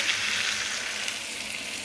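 Water poured into a pan of well-browned frying ingredients gives a steady, loud hissing sizzle, a continuous bubbling crackle with no voices.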